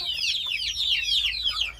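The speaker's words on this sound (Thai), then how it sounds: "เดี๋ยวจะพาไปชมลูกไก่ที่นอนกลางมุ้ง" Chicks sleeping under a mosquito net peep and cluck continuously in high, chirping trills, close and steady over a low background hum.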